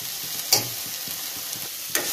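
Vegetables sautéing in a pan for Indian-style macaroni pasta, a steady hiss of frying broken by two sharp utensil scrapes or clinks and a faint rhythmic stirring underneath.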